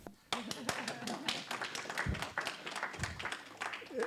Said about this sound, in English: the Poles here would applaud.